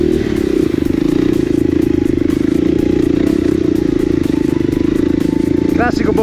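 A TM 300 four-stroke enduro motorcycle rumbles through a wooded trail during a regional enduro race in Lombardy, its loud, steady low-end thump close and continuous, with a rider speaking over it.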